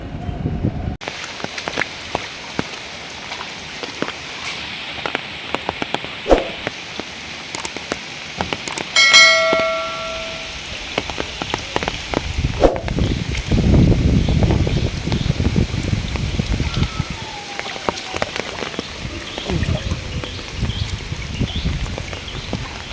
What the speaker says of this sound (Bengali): তো চলুন তাহলে দেখা যাক কেমন বৃষ্টি হলো আমাদের এখানে